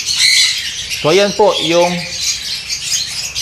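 Pale fallow and dun fallow birds give loud, harsh squawks close by, one sharp burst mid-clip over continuous chirpy chatter, with someone speaking at the start.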